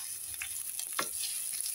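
Onion and garlic sizzling in olive oil in a pan, a soft steady crackle with a few sharper spatters and a light stir, brief and moderately quiet, no voices.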